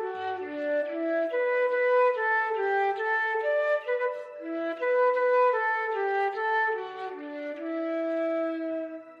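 A flute plays a smooth, sustained melody of held tones with a breathy edge, loud and alone, with no talking.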